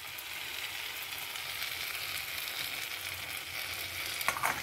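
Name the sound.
tomatoes cooking and sizzling in a pan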